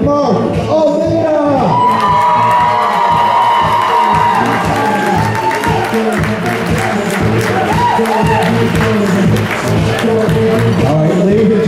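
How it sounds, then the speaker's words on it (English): Wedding guests at a golf and tennis club cheer, whoop and yell loudly and continuously throughout as the wedding party is introduced, with shouting voices layered over a noisy crowd. "Get ready to yell"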